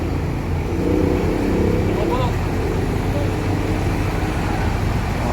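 A Sempati Star bus arrives in Palembang, its engine a steady low rumble under constant traffic noise, with someone talking throughout.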